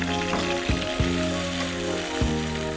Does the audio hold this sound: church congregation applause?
no